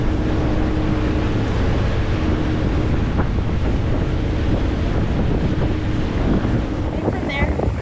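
A boat motoring across Cross Lake, its steady broadband engine and water rush heavily buffeted by loud wind noise on the microphone throughout, constant and close with no talk.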